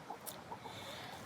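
Chickens clucking softly in a backyard, a few faint, low clucks scattered over a quiet outdoor background.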